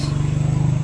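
A motorcycle engine runs close by with a steady, throbbing low rumble and rapid even pulses, heard briefly on its own.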